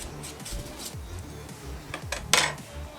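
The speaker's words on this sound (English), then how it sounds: "Just use the back of your knife." A knife's back edge scraping sticky honey and mustard marinade off pork for a banh mi, soft intermittent scrapes and clinks of utensils on a board and dish, close up, with a sharper clatter near the end.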